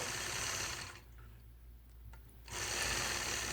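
A sewing machine stitches curved seams across a quilt block, a close, steady mechanical whirr that stops briefly in the middle and then resumes.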